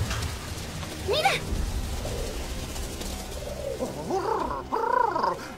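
Cartoon pigeons coo in an animated scene, with a short warbling call early on, then a cluster of throaty rising-and-falling coos near the end, moderately loud over a faint background.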